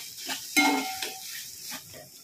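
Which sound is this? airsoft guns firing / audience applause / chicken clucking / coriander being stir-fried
coriander being stir-fried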